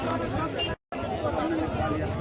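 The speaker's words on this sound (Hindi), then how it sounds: "यहाँ पे भी बहुत भीड़ लगी हुई है" Dense crowd chatter at a packed temple gate, many voices blending into a steady hubbub that cuts out for an instant, then carries on.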